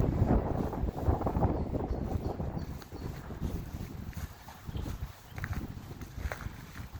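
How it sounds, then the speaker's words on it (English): Strong wind roars outdoors around pheasant pens on a frigid day, a steady, loud, gusting rumble buffeting the microphone throughout. "Man, this wind is ripping out here"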